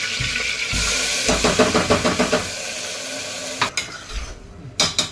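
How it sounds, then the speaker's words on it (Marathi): Loud sizzling of a ground spice paste frying in oil for a chicken dish, with a rhythmic run of spatula scrapes in the middle and a few sharper clanks toward the end. "आता हे तेल सुटेपर्यंत छान मस्त भाजून घेऊ, असं चांगलं परतवायचं त्याला"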